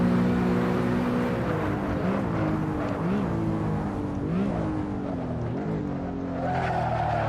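BMW E92 M3 in the racing game Assetto Corsa, its engine revving up through the gears with a sustained loud drone and pitch sweeps at each shift, a voice talking faintly underneath.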